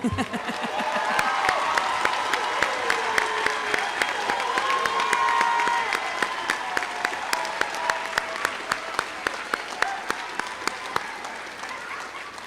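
Steady applause from a graduation ceremony audience as seniors headed to four-year universities stand, dense continuous clapping with a few cheers, slowly fading into scattered individual claps.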